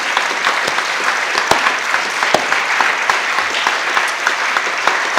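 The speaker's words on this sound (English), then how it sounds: "I'm sure you take a deserved round of applause" A conference audience claps loudly at a forum's closing, crisp individual hand claps standing out over a dense continuous patter that holds at full strength from start to finish.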